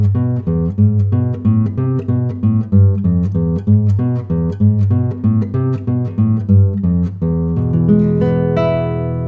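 Guitar playing the opening phrase of La Malagueña on a classical or acoustic instrument: clear repeated plucked notes in an even rhythm, loud and close, ending on a sustained strummed chord, with no voices.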